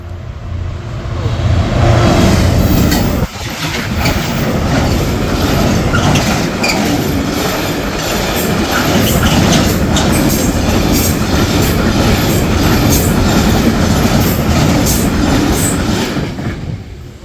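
A freight train rolls past the level crossing at Liss station, a loud, close, continuous rumble with rhythmic clickety-clack of wheels on rail joints throughout.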